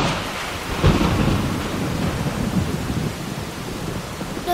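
A thunderstorm with rain in a cartoon: low rolling thunder rumbles loudly over a steady wash of heavy rainfall, swelling early and again near the end.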